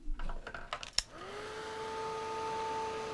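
Hair dryer blowing steadily to dry a craft float project, switching on after a second of faint clatter and holding a close, continuous whirring tone to the end.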